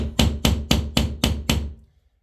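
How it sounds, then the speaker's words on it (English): A hammer strikes a metal punch against drywall six times in an even rhythm, each hit sharp and close, then the sound stops into silence. "Take a punch and your hammer."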